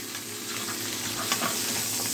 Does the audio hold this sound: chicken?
no